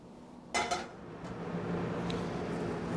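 A carbon steel frying pan set down on a stovetop, giving a couple of sharp metallic clanks followed by a faint, steady hum of the kitchen.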